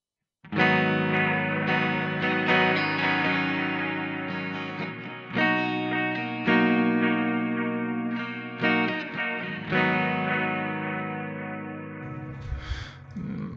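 Clean ambient electric guitar through a Line 6 POD X3 with delay and reverb, sustained chords ringing out with long echoing tails, a few separate strums over about thirteen seconds, no voice.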